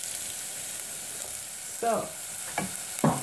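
Cubed potatoes frying in a pan for Persian lentil stew: a steady, loud sizzle throughout, with a few scraping stirs of a utensil near the end and a brief spoken word.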